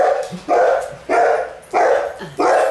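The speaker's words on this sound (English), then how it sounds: "My dog was offended when I banged the candle on the table." A dog barks in four loud, evenly spaced woofs at close range, with faint whimpers between them, after a candle is banged on a table.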